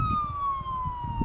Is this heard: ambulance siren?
yes